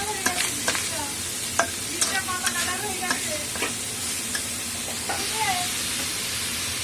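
Chicken stir-frying with onion, carrot and capsicum, a steady sizzle broken by repeated scraping strokes of a spatula against the pan, close and moderately loud, with faint background voice sounds.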